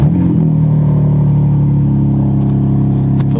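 A BMW M3 Competition with its exhaust valves fully open and a mid-pipe fitted holds a steady, loud, close engine drone with a deep rumble, without sharp rev spikes.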